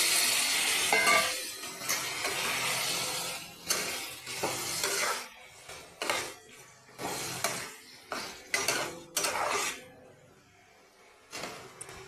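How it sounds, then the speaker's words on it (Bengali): Rajma kidney beans go into a pan of masala, with repeated spoon-and-pot clanks and scraping stirs over a light sizzle, close and fairly quiet, with short pauses between bursts. "এবার আমি রাজমা দিয়ে দিচ্ছি"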